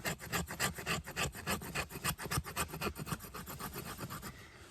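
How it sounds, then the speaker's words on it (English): The squared 90-degree spine of a Work Tuff Red Wolf knife scrapes wood in fast, rhythmic rasping strokes, close and steady for several seconds before easing off at the end. "I'm also just going to do some scraping here."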